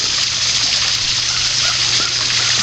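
Water in a clear garden stream flows and splashes steadily, a loud continuous rushing close by with no break.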